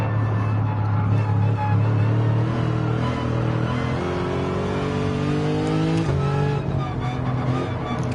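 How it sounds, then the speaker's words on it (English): Race car engines in a PS4 racing game, including the number 69 car, roar continuously up close with rising and falling revs as gears shift, and a faint tire squeal. "he's chasing down Dyson. With Rocket Rods in his famous number 69 car"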